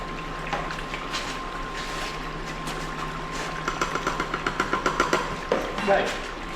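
A small battery-powered water pump runs with a steady motorized hum while gold ore is being processed. A louder rhythmic chugging pulse joins partway through, close by.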